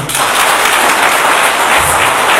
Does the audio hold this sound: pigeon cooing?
no